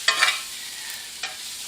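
Onions sautéing in a pan over medium heat, a soft continuous sizzle with two short stirring scrapes, close and quiet.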